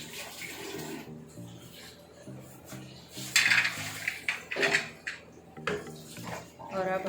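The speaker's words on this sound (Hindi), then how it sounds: "और अब हम इसको कर लेते हैं अच्छे से मिक्स" Spiced mashed potato filling with lemon juice and fresh coriander being mixed for aloo paratha, with a utensil scraping and clinking against a bowl, fairly close and continuous, over a faint steady background hum.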